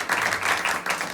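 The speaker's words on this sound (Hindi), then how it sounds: "जोरदार ताली खुदावंद के जलाल को।" A church congregation at an evangelical Christian service applauds loudly, a dense, steady wash of clapping that fills the whole moment without pause.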